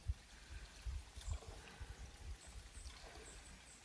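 Cold spring water pours out of a pipe from the ground along a mountain trail, a soft, steady trickle and splash with small irregular gurgles, quiet and fairly close.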